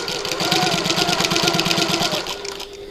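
A domestic sewing machine runs fast and evenly, back stitching a fabric bag, with a rapid regular clatter of needle strokes that slows and stops near the end.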